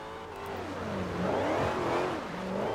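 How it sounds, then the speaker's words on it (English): An American V8 engine in Forza Horizon 2, a 2015 Dodge Challenger or Charger, revs hard with rising and falling pitch sweeps, a loud continuous snarl without speech. "Nothing beats an American V8."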